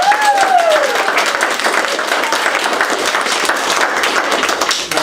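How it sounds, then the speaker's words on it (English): Loud, sustained applause for high school students at a school board meeting: many hands clapping in a dense, continuous wash, close and steady. A brief whistle-like tone rises over it early on, and the clapping fades slightly at the very end. "So let's give them a round of applause"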